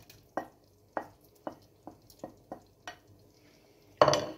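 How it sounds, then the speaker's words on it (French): Dried porcini mushrooms going into a thickened cheese fondue in a pan, with a series of soft, separate spoon taps and scrapes spaced about half a second apart, ending in one louder clatter, close and otherwise quiet. "Ce que je fais, je vais rajouter mes cèpes."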